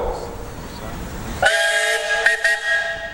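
A steam engine whistle at a threshers' steam show in Wauseon, Ohio, sounds one loud, sustained tonal blast that starts abruptly and wavers slightly as it continues, with no talk over it.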